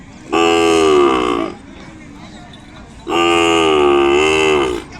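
An Ongole calf at the Kodada cattle market lets out two long, loud, tonal moos close by, each over a second long, separated by a short pause with quiet background in between.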